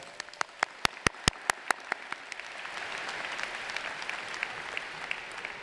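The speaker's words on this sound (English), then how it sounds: "Give yourselves a round of applause." Applause from a convocation audience of students, faculty and staff in a hall, opening with a few loud separate claps that quickly blend into a steady, moderately loud wash of clapping.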